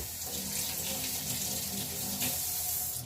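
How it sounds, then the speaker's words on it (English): Water runs steadily from a kitchen tap while something is rinsed, a continuous, fairly close rushing splash with slight shifts in tone and no speech. "Just going to rinse this very quickly"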